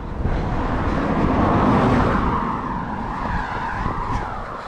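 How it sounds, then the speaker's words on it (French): A car passes close by on a road during a marathon training walk, its broad tire and engine roar steady and loud, then easing slightly as it moves away. "je laisse passer la voiture, sinon vous n'allez pas m'entendre"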